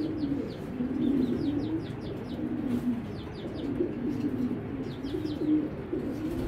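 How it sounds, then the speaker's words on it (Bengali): Racer pigeons coo in a low, rolling series of soft throaty calls, fairly close, with faint chirps from other birds above and a steady murmur of background noise. "এই কবুতরটা আমি আপনাদের ক্লিয়ারলি দেখাই দিলাম"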